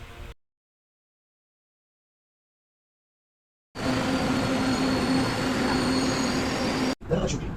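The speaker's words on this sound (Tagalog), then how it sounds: "Sumakay kami ng LRT papunta Cubao." Ride aboard an LRT light rail train heading to Cubao: a brief burst, then silence, then a loud steady rumble of the moving carriage with a sustained wheel squeal, broken by a short cut near the end.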